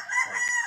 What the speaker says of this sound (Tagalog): Ito yung manok Pinoy, male, cockerel.